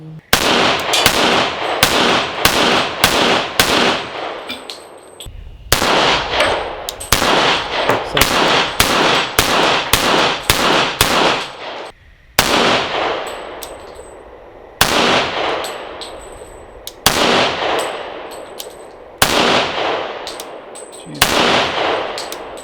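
A Rock Island 1911A1 pistol fired repeatedly outdoors, loud sharp shots in quick strings and then slower single shots, each with a ringing echo tail.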